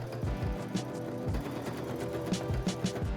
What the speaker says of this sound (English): Fold it over once more and sew it down again.